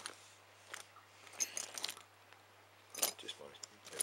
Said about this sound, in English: just my everyday keys.